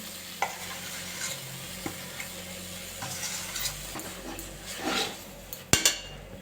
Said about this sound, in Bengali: কড়াতে আমি আমের পালগুলো দিয়ে দেবো